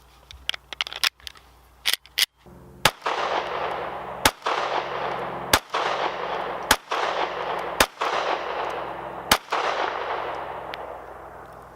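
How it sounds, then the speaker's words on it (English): Gunfire from another shooter at an outdoor range: about ten sharp, irregularly spaced reports, each trailing a long echoing decay, with no talking. "Somebody else is out enjoying some shooting fun."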